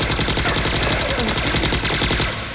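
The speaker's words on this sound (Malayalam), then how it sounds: "വെടി" Rapid gunfire rattles in a fast, even burst, loud and close, a machine-gun-like stream of shots that runs for a couple of seconds before fading slightly.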